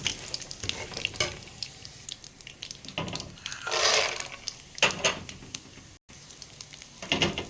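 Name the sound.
mustard seeds spluttering in hot oil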